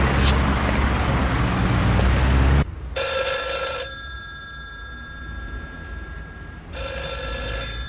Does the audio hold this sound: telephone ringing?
yes